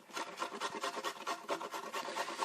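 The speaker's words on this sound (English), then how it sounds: "I just cut hold of a grater on the fine setting and just grate myself" Fresh turmeric root is grated on a fine grater, giving close, quick rhythmic rasping strokes, about ten in a row, steady and alone.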